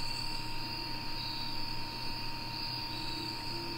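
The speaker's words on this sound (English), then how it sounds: "a good horror game, with just obscenely loud crickets." Obscenely loud crickets in a horror video game, a dense, steady high-pitched chirring that fills the whole stretch without pause, close and constant with no talking over it.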